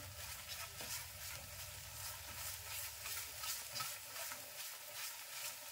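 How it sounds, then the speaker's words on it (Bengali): Pistachio ice cream base stirred nonstop in a pan over heat, giving a steady close scraping and bubbling hiss that never lets up, with no one speaking. "অবিরত নাড়াচাড়া করে রাখতে হবে, ছেড়ে দিলে পুড়ে যাবে"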